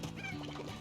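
A hen clucks in the game Slime Rancher, a short close cackle of under a second on its own.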